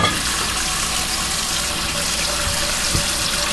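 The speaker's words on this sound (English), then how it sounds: "Get some water in that pot and you won't have any problems with it sticking." Tap water gushes steadily into a pot in a home kitchen, a continuous, close, even rush of flowing water with no talking.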